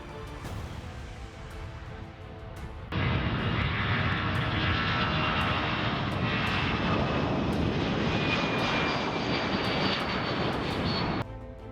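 Jet engine roar from a C-17 transport aircraft's Pratt & Whitney F-117 PW-100 engines, a steady broadband rush that jumps sharply louder about three seconds in and holds at full power before cutting back near the end.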